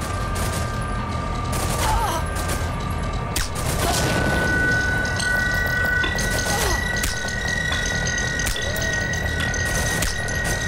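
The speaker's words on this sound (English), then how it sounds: "They are shooting at me." Gunfire from enemy soldiers in the game Velvet Assassin cracks in repeated sharp bursts and scattered shots at moderate loudness over a constant rumbling background, with some distant booms.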